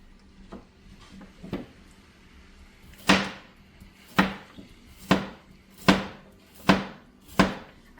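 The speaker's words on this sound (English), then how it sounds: "cut the ugly tops off" Knife chopping carrots on a cutting board in a home kitchen, a few soft taps followed by six crisp, evenly spaced chops, close and clear with no talk.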